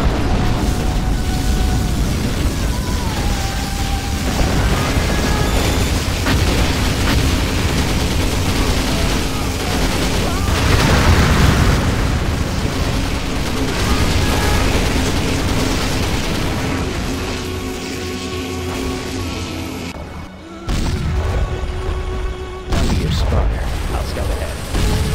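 Particle cannon blasts from a Command & Conquer Generals mod roar as a loud, dense, continuous wall of explosions and rumbling mechanical noise lasting throughout, with a brief dip near the end.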